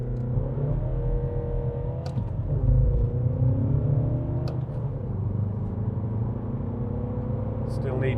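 A MINI Cooper SD with a B47 diesel engine pulls hard under acceleration, giving a steady, close low rumble with engine tones slowly rising in pitch, heard from inside the car.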